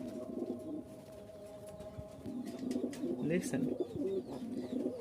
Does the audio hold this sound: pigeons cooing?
yes